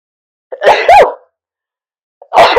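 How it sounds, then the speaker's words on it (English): Two loud, close sneezes from one person in an otherwise silent room, the first a double burst, the second beginning just as the sound ends. "Goodness, 3 sneezes."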